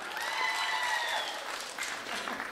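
Wedding guests clap steadily for a couple, a dense burst of hand claps filling the room at moderate loudness, with a faint voice lingering over the start.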